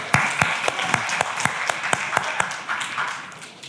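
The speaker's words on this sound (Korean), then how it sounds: "박수 치면 될까? 박수 치줄까?" A church congregation at a Wednesday service gives a child a short round of applause: a modest scatter of clapping with distinct individual claps ringing out in a loose rhythm, fading after a few seconds.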